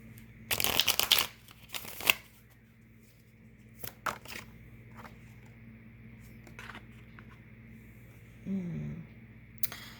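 Tarot cards shuffled by hand in a few short riffling bursts, quiet and close, separated by pauses and soft handling clicks, with no talking.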